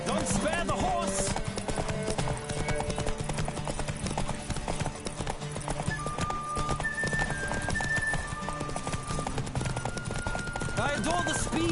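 Horse hooves gallop fast and steadily during a race in The Witcher 3: Wild Hunt, a loud continuous clip-clop with an occasional whinny over game ambience and brief voices.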